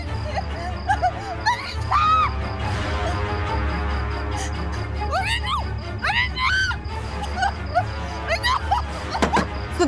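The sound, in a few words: woman screaming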